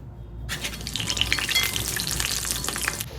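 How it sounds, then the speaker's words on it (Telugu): Cauliflower florets deep-fry in hot oil with big bubbles, a loud, dense, continuous sizzle that starts abruptly and roars on steadily up close, with no voices over it. "డీప్ ఫ్రై చేసుకోవాలి ఇలా పెద్ద పెద్ద బబుల్స్ వస్తాయి"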